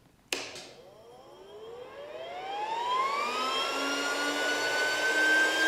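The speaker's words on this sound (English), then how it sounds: "I accidentally installed a jet turbine instead of a small fan" A powerful electronics cooling fan switches on with a sharp click, then spins up into a loud, rising jet-turbine-like whine that keeps climbing in pitch and steadies into a continuous roar.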